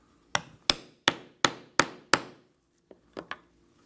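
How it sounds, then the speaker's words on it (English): A metal rivet setter is struck with a hammer to set a rivet in leather, giving six sharp, evenly spaced blows followed by a pause and three lighter taps, close and loud in a quiet room. "I will put the cap in place, and then with the rivet setter, I will set the rivet."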